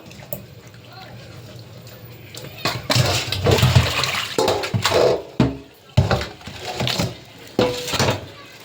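Sea fish are washed by hand in water, with splashing and sloshing in uneven bursts and a steady run of water underneath.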